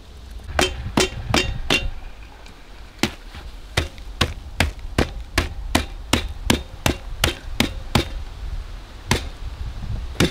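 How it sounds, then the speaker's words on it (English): A rock strikes nuts in primitive-style crushing at Lake Superior Provincial Park, sharp loud cracks landing in quick runs with short pauses between, close by and with no talk. "You should have your own YouTube channel of primitive nut crushing."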